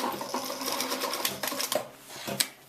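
Sewing machine stitching a seam on hot pants fabric during an alteration, a steady close run of rapid needle clatter with brief pauses and small clicks, no talking.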